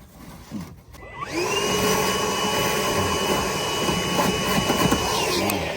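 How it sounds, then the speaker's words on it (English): A vacuum cleaner switches on, its motor whine rising quickly to a loud, steady roar that continues close by with some rattling as it sucks out an RV sewer line. "Vacuum that out."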